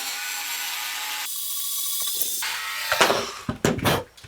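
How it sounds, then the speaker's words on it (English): A small drill re-drills a hole through the paper-covered boat tail of an Apogee Nike Hercules model rocket, a whirring hum that shifts pitch several times and ends in a few short, louder grinding bursts, close up with no talking. "I'm going to re-drill the hole, clean it up a little bit"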